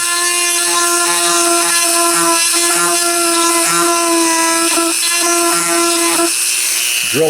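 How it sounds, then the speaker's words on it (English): A power drill whines steadily at high pitch, drilling out foam filling in a Honda mirror housing in a continuous buzz with slight wavering pulses, close and loud throughout. "drill out the foam"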